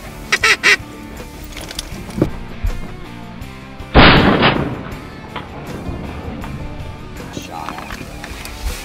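A shotgun blast rings out during a Texas duck hunt, one loud sharp report followed by a decaying echo, with duck quacks and calls heard earlier and faint movement in the background.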